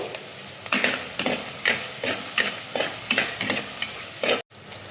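Green chilies and curry leaves fry in a pan with a steady close sizzle, punctuated by roughly ten regular spoon-scraping stirs, ending in a sudden brief cut near the end; no voices.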